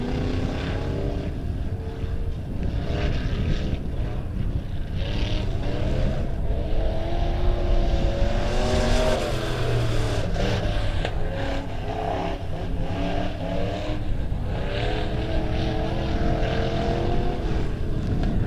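Midwest Modified race cars circle Springfield Raceway under caution on opening night, a continuous layered engine drone swelling and fading as the pack passes, with no voices over it.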